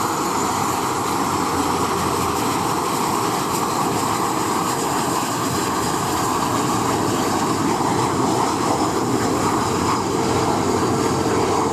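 RAF Red Arrows aerobatic jets at an air show, a continuous loud roar of jet engines that holds steady and broad throughout, heard from the crowd with no talking.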